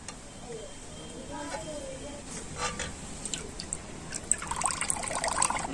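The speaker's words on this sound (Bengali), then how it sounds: "আমি হাত দিয়ে যতটা সম্ভব জল ঝরিয়ে নিয়েছি" Water trickles and drips as wet chhena cheese is squeezed by hand, gently at first and then growing into a louder splashing patter toward the end.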